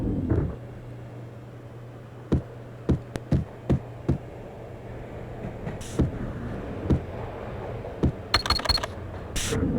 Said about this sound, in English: Sounds like a printer or something.